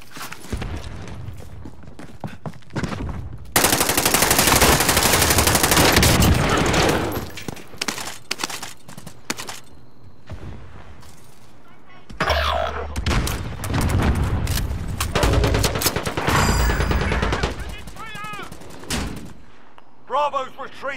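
Gunfire in the video game Call of Duty: Modern Warfare erupts in loud, dense bursts of automatic fire with sharp single shots between them, alternating with quieter stretches of battle noise.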